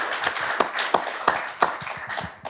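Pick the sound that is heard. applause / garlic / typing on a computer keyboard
applause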